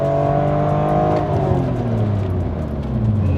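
A BMW E46 M3 engine with an aftermarket exhaust gives a throaty, raspy, tinny note that rises and falls as it revs and pulls away, loud and close throughout.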